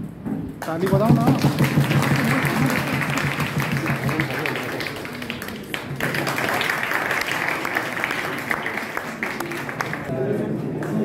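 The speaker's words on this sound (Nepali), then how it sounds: "ताली बजाउ सब" Audience applause at a Teachers' Day gathering at Kathmandu University, steady dense clapping that runs for the whole stretch with crowd voices and chatter mixed underneath.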